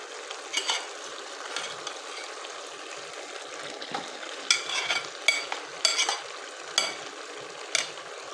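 Crushed radishes and spinach frying in a pan for a Pakistani-style palak muli sabzi, with a steady low sizzle broken by repeated scraping stirs of a spoon against the pan, fairly close and without talk.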